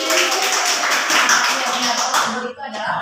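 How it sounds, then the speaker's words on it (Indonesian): Classroom students in a ninth-grade lesson clapping their hands together, a burst of brisk, overlapping claps close by that breaks off near the end, with voices mixed in. "Kita beri tepuk tangan dulu."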